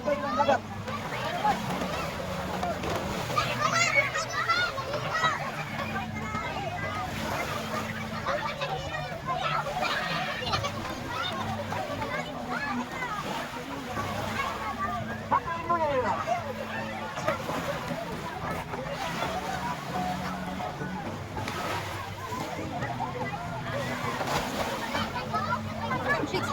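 Seawater splashes and sloshes at the seaside on New Year's, a continuous busy wash close by, with adults and children talking and chattering throughout.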